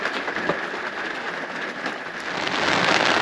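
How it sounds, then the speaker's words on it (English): Heavy rain pounds steadily outside a van, a dense, loud, unbroken hiss of drops on surfaces that swells slightly toward the end, with no voices over it. "It's really raining out there."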